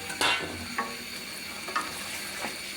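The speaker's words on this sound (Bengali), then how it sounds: "ডিমগুলো দিয়ে একটু নেড়ে চেড়ে নিতে হবে।" Fried eggs stirred into frying masala in a pan for an egg korma, with a faint steady sizzle and a few spatula scrapes at uneven intervals, no talking.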